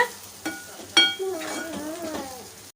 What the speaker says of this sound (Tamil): ஒரு அஞ்சு நிமிஷத்துக்கு மட்டும் நம்ம இதை வந்து நல்லா வதக்கி எடுத்துக்கலாம்